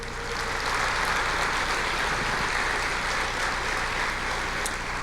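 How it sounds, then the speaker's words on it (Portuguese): A church congregation applauds during a Portuguese-language sermon, a dense continuous wash of clapping that holds steady across the whole stretch without pause. "Você pode aplaudir o Senhor?"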